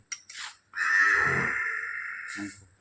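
A Nili-Ravi buffalo on a dairy farm in Amritsar district lowing once, a long loud drawn-out moo lasting about two seconds after a few short grunts, close and clear with no talk.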